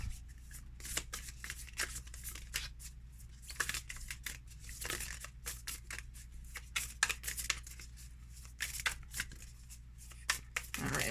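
A deck of Love Story Oracle Cards with a rose-petal texture is shuffled by hand up close, irregular crisp riffling bursts and soft slaps over a faint steady hum.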